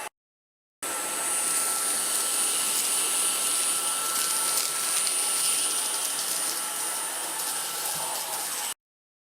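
A Jimmy vacuum cleaner fitted with its Fluffy brush runs across carpet, giving a steady, loud whirring roar that switches on abruptly, holds constant for about eight seconds, then cuts off, with no voices.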